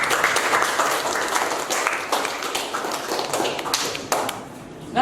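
Audience clapping in a classroom or training session, a brisk burst of hand claps with some taps and thumps, fairly close and loud, fading slightly toward the end.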